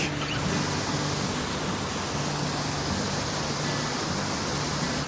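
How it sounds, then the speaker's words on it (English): A loud, steady roar of a waterfall in Norway fills everything, a dense unbroken rush of falling water with no voices. "it's very loud next to this waterfall."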